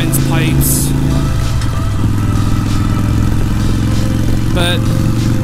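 Loud, steady motorcycle exhaust from Vance and Hines pipes, a continuous low engine rumble with clattery texture running throughout, recorded on a moving bike with wind noise.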